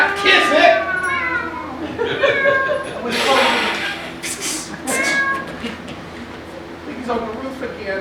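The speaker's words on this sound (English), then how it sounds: "Here, kitty, kitty, kitty, kitty." A cat meows several times close by, drawn-out cries amid people talking and calling to it outdoors.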